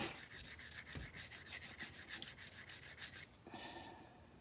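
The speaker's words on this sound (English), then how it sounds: "I switched to a much more aggressive stone. This is an 80 grit diamond." A knife is ground on a coarse 80 grit diamond stone in a quick, steady series of close, rough rasping strokes, about a dozen in rhythm, followed by a brief softer scrape.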